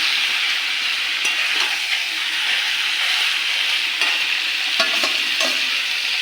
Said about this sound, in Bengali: ভালো করে নাড়িয়ে দাও, 1 ঘন্টা আমার কষতে হবে